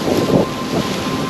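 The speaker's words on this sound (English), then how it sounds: "Very windy." Strong wind buffets the microphone on an outdoor walk along a rock ledge and old stone wall near Bayers Lake, a loud, steady low roar with gusty swells and no voices.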